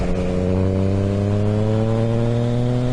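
Yamaha XSR900 motorcycle engine under light throttle, a loud, close, smooth harmonic drone climbing steadily in pitch as it accelerates.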